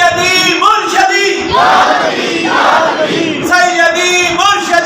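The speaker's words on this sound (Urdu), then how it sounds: "سیدی مرشدی کے نعرے لگائے" A crowd at a religious gathering celebrating the revelation of the Quran chants devotional slogans in loud call-and-response, a lead voice answered by many voices shouting together, rising and falling in rhythmic waves.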